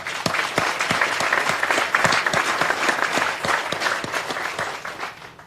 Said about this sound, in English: Round of applause to all of you